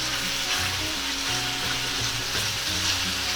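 Ground chicken sizzles steadily in a hot pan while being stirred, a continuous close frying hiss with scraping stir sounds and no talking.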